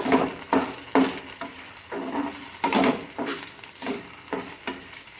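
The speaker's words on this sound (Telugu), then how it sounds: "ఈ ఆనియన్స్ బాగా వేగాలి." Onions fry in a pan for an okra and garlic curry, with a soft steady sizzle under repeated scraping and stirring strokes of a utensil against the pan.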